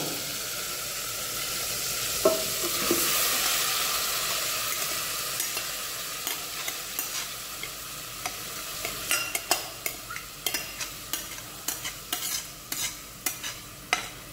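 Yogurt-marinated chicken sizzles over a slow flame in a pan, a steady hiss that softens over time while a spatula scrapes and stirs in increasingly frequent, sharp strokes.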